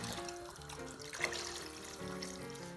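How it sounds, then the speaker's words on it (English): Water pours into a pot of lentil soup, a soft, steady splashing and trickle, fairly faint and close, over a background hum and tones, with no talking. "So I'm going to fill this up full of water, pour it in there."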